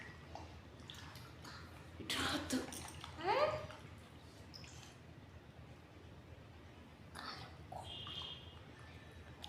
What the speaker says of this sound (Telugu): ఇప్పుడు వీటన్నిటిని నీట్గా వాటర్లో వేసేసుకొని వాష్ చేసేసుకోవాలి